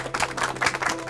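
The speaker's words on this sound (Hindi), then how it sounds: "ताली बजाइए।" A small group of villagers claps hands in a rural panchayat office, brisk uneven applause lasting about a second, close and fairly loud.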